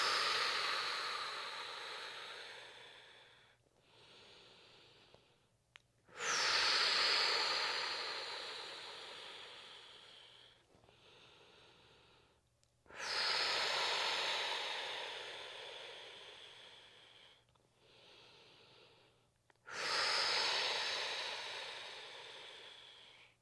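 Slow, deep breaths taken during a core exercise, close and clear, with long airy inhales and exhales in a steady alternating rhythm and quiet pauses between them.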